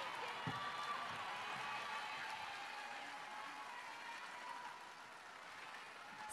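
Sustained audience applause and crowd noise at a concert at GBK stadium, a broad steady wash of clapping and cheering lasting throughout, fairly distant and even in level.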